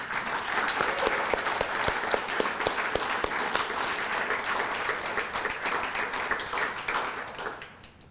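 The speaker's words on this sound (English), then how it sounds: "He deserves a round of applause for that." A crowd at an Eagle Scout ceremony gives a round of applause, many hands clapping in a dense, steady burst that holds and then fades out near the end.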